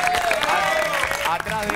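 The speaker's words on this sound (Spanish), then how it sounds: "Agustín Pelletieri, le damos un fuerte aplauso" An audience gives a strong round of applause for a Racing football player, a dense, loud clapping with crowd noise while voices and a tonal sound carry over it.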